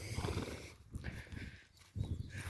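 A draft horse close by, with low snorting and breathy grunts in bursts, plus some shuffling movement and brief pauses between sounds.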